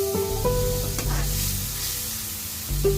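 Spoon stirring a tablespoon of turmeric into a sizzling mixture in a pan for egg curry, close scraping and bubbling with a few clinks, steady and moderately loud, no talk.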